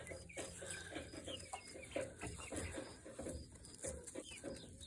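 Young chicks brooding under a heat lamp cheep and cluck continuously in a dense, busy chorus of many birds close by, with no talk over them.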